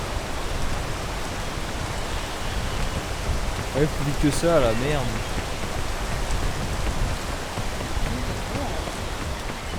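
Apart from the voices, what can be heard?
rain falling in the video game PEAK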